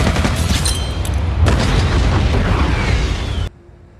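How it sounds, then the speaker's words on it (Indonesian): A bomb blows up in the 2021 action film Nobody, a loud booming blast followed by crackling debris and rumble that cuts off sharply to near silence at the end. "si bom tersebut meledak tepat di wajah Julian"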